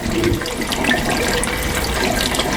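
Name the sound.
water flowing down inside a hydroponic growing tower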